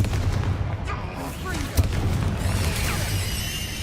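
Confringo fire spell blast in the game Hogwarts Legacy, a single sharp explosive crack in mid-clip over a steady low rumble of combat ambience and fizzing magical effects.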